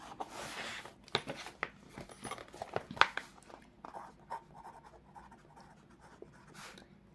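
A pen moving across paper while statistics class intervals are written out, heard as close, uneven scratchy strokes with small taps, loudest in the first half and then thinning out.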